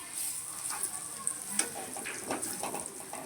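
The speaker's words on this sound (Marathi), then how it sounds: "लसणाची फोडणी छान बसली ना" Garlic tempering sizzles in hot oil, a bright, continuous crackle up close, with a few soft stirring scrapes.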